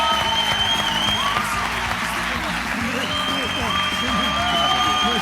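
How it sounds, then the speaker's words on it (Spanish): Applause for a guest at a live interview event, steady crowd clapping with some cheering under music and talk that carries through the whole stretch. "pido un fuerte aplauso a Iker Azcona"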